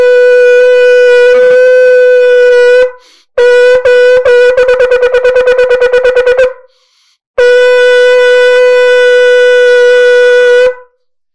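A shofar sounds the full tekiah-shevarim-teruah set: a long steady blast, then a rapid series of short broken and staccato notes, then another long sustained blast, loud and alone.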